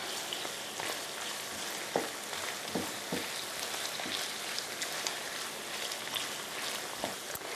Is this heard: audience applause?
no